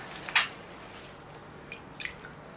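Wisteria bonsai roots lowered into water during repotting: one clear drip or splash, then two faint drips a moment later, close and quiet with no talking.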